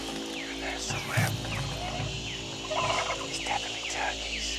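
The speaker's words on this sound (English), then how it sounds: "It's definitely turkeys." Wild turkeys gobble repeatedly in the jungle, several calls close by and others farther off, over a steady background of insects and forest hum.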